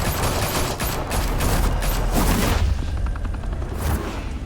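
Rapid bursts of gunfire fill a shootout in Batman The Telltale Series, loud and dense for a few seconds before thinning into scattered shots against a rumbling background.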